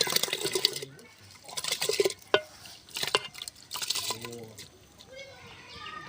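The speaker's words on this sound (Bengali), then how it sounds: "জলটা গরম হয়ে গেছে, আমি এই চালগুলো একটু ধুয়ে দেবো।" Rice for payesh is being washed in hot water, with intermittent splashing, sloshing and dripping in bursts, close and moderately loud, while someone speaks over parts of it.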